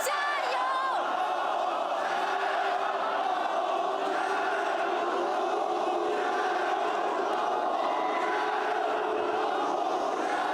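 A large esports arena crowd of Top Esports fans chants and cheers together in a dense, sustained roar that fills the whole stretch, with a voice briefly heard at the start.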